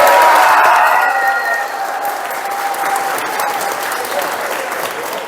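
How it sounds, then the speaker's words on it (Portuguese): A tour group on a farm-tourism outing applauds Mr. Mazotti with loud, sustained clapping that gradually settles to a steady patter, close and dense, with a few faint voices mixed in. "um bom dia e uma forte salva de palmas para o seu Mazotti"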